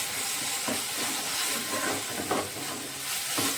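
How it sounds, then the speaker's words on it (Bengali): Spices frying in oil in a pan with bay leaves while making a potato and cauliflower fish curry, a steady close hiss and sizzle with faint crackles and small bursts throughout. "মশলাগুলো কষানো হয়ে গেলে তেল ছেড়ে দেবে, কিন্তু তেল ছেড়া প্রায় আরম্ভ হয়ে গেছে।"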